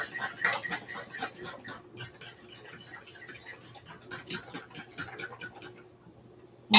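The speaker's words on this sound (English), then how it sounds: "It says beat the eggs, so I'm beating them off to the side" A utensil beats eggs in a bowl for a holiday casserole, producing quick, rhythmic clinking taps that speed up and slow in bursts, close and fairly quiet, ending in a sharper clank.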